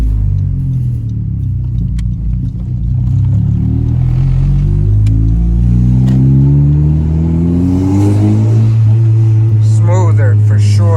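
A Honda Civic Si fitted with NGK spark plugs accelerates hard in sport mode on its higher boost setting, the engine droning low and loud, pitch climbing steadily through the gear, with a voice talking over it near the end.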